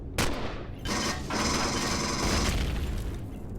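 Heavy turret gunfire booms and rattles in sustained bursts inside the Empyrion: Galactic Survival space game, loud and close with a short gap between volleys.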